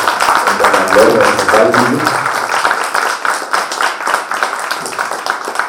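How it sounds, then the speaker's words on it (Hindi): An audience at a theatre talk applauds a playwright, a dense burst of clapping that swells early, then thins and tapers off, mixed with some voices. "प्लीज़ जोर के तालियों के साथ"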